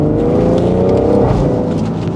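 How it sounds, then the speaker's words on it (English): A BMW M140i engine revs hard with a loud, rumbling aftermarket exhaust, steady and close throughout, the pitch rising and falling slightly. "it's a bit loud since I put the new exhaust on"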